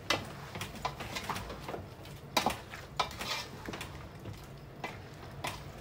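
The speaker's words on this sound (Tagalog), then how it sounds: "haluin muna natin, guys" Chicken adobo with potatoes is stirred in a pot over gentle sizzling, with irregular scraping and clacking strokes of a utensil that rise and fall close by, and no one speaking.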